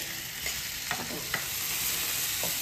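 Onions with salt fry lightly in a pan as a soft, steady sizzle, broken by a few quiet scrapes and taps of stirring. No one talks.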